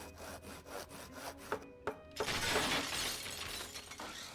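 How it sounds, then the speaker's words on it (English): A glass-breaking effect in the Thimbleweed Park adventure game: a loud crash with a broad, sustained shattering spray follows a couple of sharp clicks, playing alone over a soft game background. "That sounds like broken glass."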